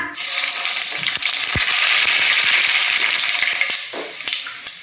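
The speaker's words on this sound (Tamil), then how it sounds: "நல்லா கடுகு பொரிய விட்டுக்கலாம்" Mustard seeds spluttering in hot oil in a pan, a loud, dense crackle of rapid pops that continues throughout and eases a little toward the end, with no one talking.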